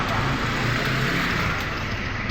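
A car engine runs steadily during a periodic 10,000 km service on a workshop lift, a constant low rumble with broadband hiss and no voices.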